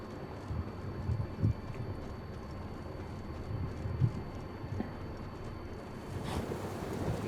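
A purebred warhorse's hooves in The Witcher 3: soft, irregular clip-clops with a few heavier thuds, set low under steady wind noise.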